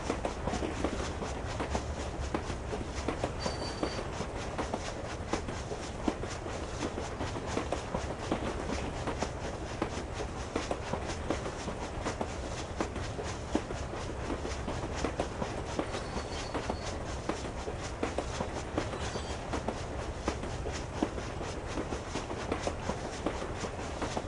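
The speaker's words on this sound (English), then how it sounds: "There's no way to stop the train." A runaway train in the 1999 video game Nocturne rolls on steadily, with a dense, continuous rumble and clatter of wheels on rails filling the whole stretch and no letup.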